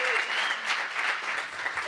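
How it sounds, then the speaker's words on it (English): Audience applause for a performer being introduced at an event, a full, even burst of clapping from a crowd, sustained and loud throughout, with faint voices mixed into it. "Please give her a round of applause."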